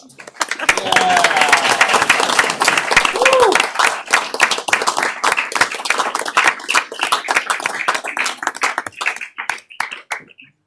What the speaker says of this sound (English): I feel like we need to applaud.